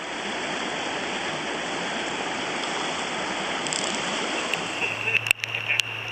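Rain falls on the Farmington River as the water flows with a steady, full hiss and rush. Near the end, a few faint clicks and knocks sound close by.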